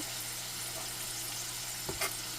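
Sweet potatoes fry with sugar in a pan, giving a steady, close sizzle throughout, with a brief stirring scrape near the end.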